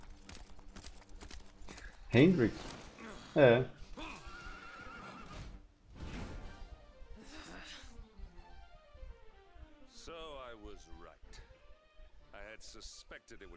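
Horses in the Dragon Quest XI game give loud, close whinnies and snorts, two strong bursts early, then clip-clopping hooves and more neighs trailing off, with someone speaking briefly.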